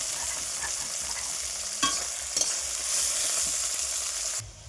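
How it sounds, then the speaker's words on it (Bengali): Green beans stir-frying in a pan for fried rice, giving a steady close sizzle throughout with a few sharper scrapes and clatters of the spatula, then cutting off abruptly near the end. "বিনসগুলো ভেজে নিচ্ছি।"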